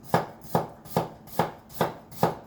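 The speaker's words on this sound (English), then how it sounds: "I'm going to cut a few slices" A knife slicing ginger on a cutting board, six evenly spaced firm thuds in a steady rhythm, close and clear with no talking.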